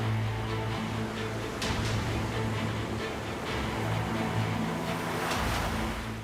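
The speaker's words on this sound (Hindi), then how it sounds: "बीच से ये बहता पानी।" Water flowing through a mangrove forest beneath a mountain range, a steady broadband wash with low rumble throughout, continuous and moderately loud with no talk.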